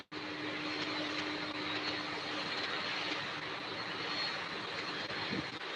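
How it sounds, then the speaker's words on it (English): A McDonnell Douglas MD-11 jet airliner at an airport, heard at a distance as a steady broadband engine roar with a faint whine, moderately quiet and continuous with no talking. "you guys are looking at an MD-11 right now"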